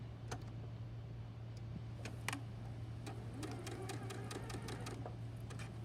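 A sewing machine chain-pieces quilt patches, feeding one piece right after another, with quiet ticking stitches and light clicks over a steady low motor hum.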